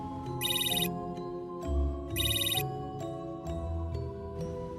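A phone ringtone chirps in two short electronic bursts over soft background music, moderately loud and nearby.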